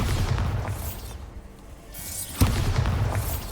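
The Bombarda explosion spell in Hogwarts Legacy goes off as loud booming bursts, one at the start, then a short lull and a sharp blast with a rumbling tail, with no talking.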